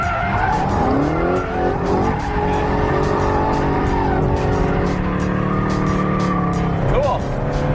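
A car spins its wheels and skids as it rotates under hard throttle, with a loud, continuous engine roar and shrieking tire squeal that rise and shift in pitch throughout.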